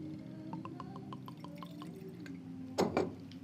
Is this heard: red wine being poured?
yes